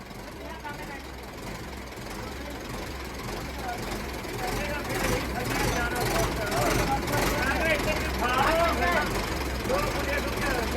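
A tractor engine runs with a low, steady rumbling hum that swells slightly partway through, while voices talk over it close by.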